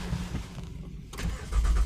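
A car engine cranks and catches after a jump start from a Fanttik T8 Max portable jump starter, a close, loud rumble that swells into a steady idle.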